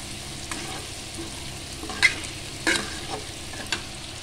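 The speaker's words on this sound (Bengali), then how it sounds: "আলুটা দিয়ে এবার ভেজে নেব" Potatoes frying in a pan: a steady sizzle runs throughout, broken by a few louder scraping stirs, close up and with no voices.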